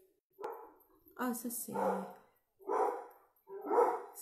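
A dog barks in short bursts indoors, several separate barks spread across a few seconds, fairly close and mixed with someone speaking French.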